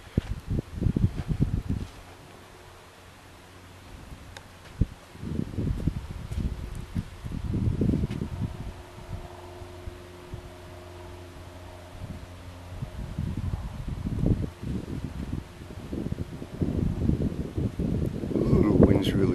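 Steady outdoor wind buffets the microphone while a Zohd Talon 250 RC plane flies, rising and gusting in waves across the clip, with someone speaking over it at intervals.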